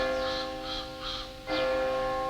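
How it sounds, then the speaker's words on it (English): A church bell rings in several steady resonant strokes with a long sustained hum, clear and moderately loud at a distance with no talking. "That is why the bell is ringing."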